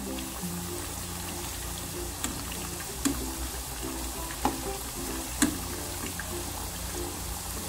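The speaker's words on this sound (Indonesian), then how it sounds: "Saya balik goreng kentangnya ya, biar tingkat kematangannya merata." Cut potatoes sizzle steadily in hot oil in a home kitchen, a continuous close crackle broken by a few sharp clinks as the pieces are stirred and turned.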